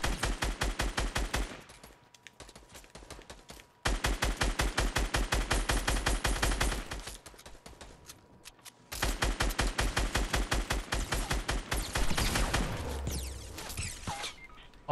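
Rapid automatic gunfire in Fortnite comes in long, evenly spaced bursts of sharp, loud shots, broken by brief pauses, with a final messier stretch of mixed impacts.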